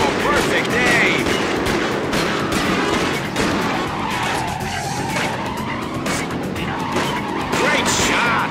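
Gunfire erupts in a Starsky & Hutch video game amid screeching tires and racing car engines, with rapid bursts of shots layered over continuous skidding and road noise, loud and busy throughout.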